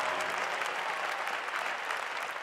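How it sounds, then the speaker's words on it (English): A church congregation claps hands in praise, a dense steady wash of applause filling the room with no break, lively and sustained. "won't you give the Lord a big hand clap of praise?"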